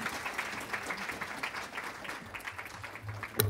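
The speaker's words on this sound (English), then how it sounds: "let's give my panel a big round of applause" A conference audience at an epilepsy research family day applauds its panel, a steady, fairly quiet wash of many hands clapping that holds evenly throughout.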